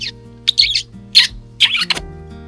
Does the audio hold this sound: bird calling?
yes